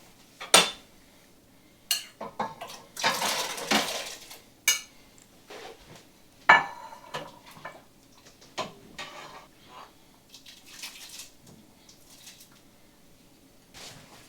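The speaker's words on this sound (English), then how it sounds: "This is 4 cans of beans going into the broth, and we're also going to add some of the ham." Four cans of beans tipped into a pot of broth, with clanks of cans and metal against the pot, scattered knocks and a wetter pouring stretch, all close up with no talk.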